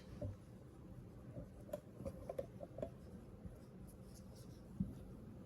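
Pen on paper while a trigonometry proof for a class 10 maths exercise is written out, producing soft, quiet scratching strokes and a few light taps, close and intermittent, with no voice present.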